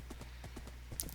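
Horse hooves in Minecraft clop in a quick, light series of about five or six distinct taps, fairly close and clean, with no talk over them.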